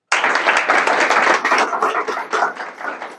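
A short, loud burst of audience clapping at a motivational talk, dense and close, tapering slightly over about three seconds.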